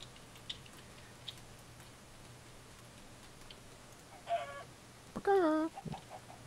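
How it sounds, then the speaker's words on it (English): A chicken in the Minecraft video game clucks a few times near the end, short bright squawks over a quiet background hum with faint ticks earlier. "The chicken's just going mental."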